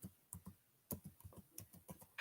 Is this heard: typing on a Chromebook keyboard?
yes